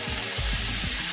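Chicken and shrimp in teriyaki marinade sear in a hot pan with a close, steady sizzle. Soft bumps and shuffles of the food shifting in the pan break through it at intervals.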